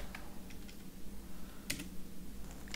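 Someone types an Ubuntu apt-get install command on a computer keyboard, with soft scattered key taps and one sharper click near the end, close up over a faint steady hum.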